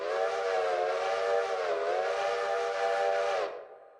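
A steam locomotive whistle in the train game Railroader sounds one long, loud, steady chime-like blast lasting about three and a half seconds, then cuts off sharply with a brief fading tail.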